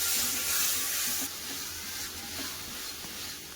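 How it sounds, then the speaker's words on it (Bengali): Ground spices with turmeric and a splash of water cook in a pan, making a soft, continuous hiss and sizzle with faint stirring, and no voices. "হলুদ গুঁড়ো একটু জল দিয়ে দেবো মশলাগুলো ভালো করে কষে নেব"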